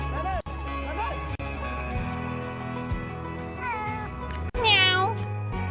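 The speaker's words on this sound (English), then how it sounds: "Meow." Cats around an old fortress wall in a city meow repeatedly, several distinct rising and falling meows close by, with a person talking over them.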